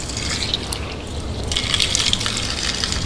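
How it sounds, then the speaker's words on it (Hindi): Water pours and splashes during ablution as the nose is rinsed, a close, continuous gushing trickle that swells louder in the second half. "3 मरतबा सीधे हाथ से पानी डालेंगे और बाएं हाथ की छोटी उंगली से नाक को साफ़ करेंगे।"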